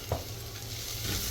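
Onions frying in a pan with coriander powder, garam masala and salt give a continuous close sizzle with a brief stirring scrape, over a low steady hum.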